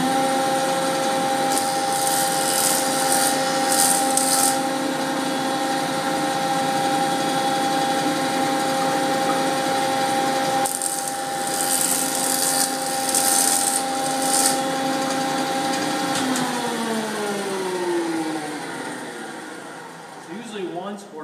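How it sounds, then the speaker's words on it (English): A wood jointer whirs with a steady high-pitched motor drone as a board is fed flat-face down across it, then the machine winds down in pitch near the end; close and loud throughout. "So I'm going to put that flat face against the joiner. Turn it back on, and now I'm going to run through."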